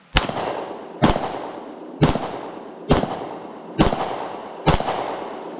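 Six evenly spaced gunshots from a Mossberg MC1 SC pistol at roughly one-second intervals, each a sharp loud crack with a short decaying tail outdoors.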